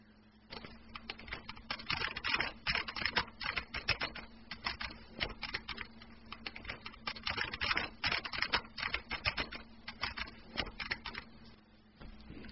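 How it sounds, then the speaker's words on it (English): Rapid, continuous clacking of computer keys, typing in quick bursts with brief pauses, close and fairly clear, with a faint steady hum underneath. "the sound of the keyboard is actually completely out of sync with the typing"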